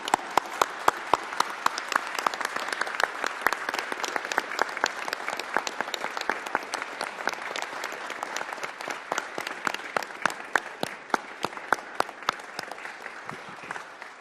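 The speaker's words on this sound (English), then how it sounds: "I just want to give him a big round of applause for his service." A room at a congressional hearing breaks into sustained applause: dense, steady clapping from many hands that stays close and loud for about fourteen seconds, with no speech over it.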